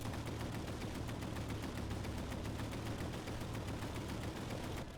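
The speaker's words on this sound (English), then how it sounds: "hopefully with a couple of cannon shot rounds we should be a little bit more precise" In the video game Easy Red 2, a tank's cannon fires during a Cassino campaign battle amid constant rapid gunfire, a dense, loud barrage of sharp repeated reports pounding without pause.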